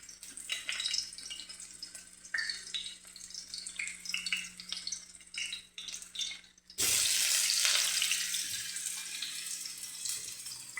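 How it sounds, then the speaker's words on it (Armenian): Broccoli rinsed under a running kitchen tap, first with light clinks and handling noises, then a loud steady gush of water hitting the florets and sink that continues to the end. "այստեղ լավ լվում ենք բրոկոլին, որպեսզի ծաղկաթերթերի մեջ բակտերիաներ չմնան"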